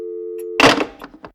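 A steady telephone tone hums, then a loud thunk and clatter as the receiver is slammed down, followed by a few fainter knocks.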